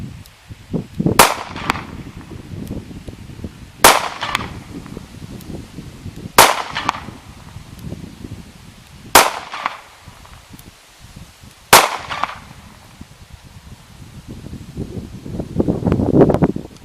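A Keltec gun is fired outdoors: five sharp, loud reports spaced a few seconds apart, each with a short echoing tail and quiet rustling in between.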